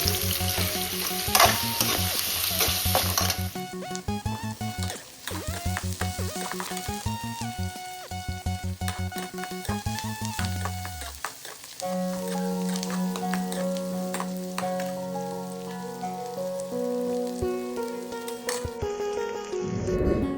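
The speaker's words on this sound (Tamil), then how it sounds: "ஸோ இப்போ வந்து பூண்டு ஆட் பண்ணிக்கலாம்" Garlic frying in hot oil in a pan for a kara kuzhambu, a loud continuous sizzle with stirring clatter, then a steadier hiss after a brief lull, close and without speech.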